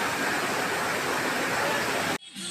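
A strong waterfall at Jatashankar near Junagadh pours as a loud, steady roar of broadband rushing water that cuts off abruptly near the end, leaving a quieter, sparser tail.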